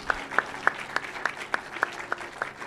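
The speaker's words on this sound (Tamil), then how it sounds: "ஒரு உற்சாகமாக நன்றி கைத்தட்டல் கொடுப்போமா?" A church congregation gives thanks with rhythmic, unison clapping, sharp evenly spaced claps at a steady beat that stay fairly close and clear, with no talking over them.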